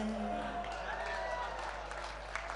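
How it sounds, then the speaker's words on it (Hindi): An audience at a Hindi kavi sammelan poetry recital breaks into applause, a soft, even wash of many hands from a large crowd, with a voice briefly audible over it at the start. "तालियां गलत जगह बजा दी आपने"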